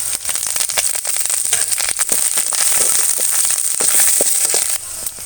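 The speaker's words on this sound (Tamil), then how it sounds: "இப்போ கறிவேப்பிலை போட்டுக்கலாம்" Curry leaves dropped into hot oil with onion, garlic, mustard seeds and cumin, a loud close dense crackling and sizzling that spatters continuously for several seconds.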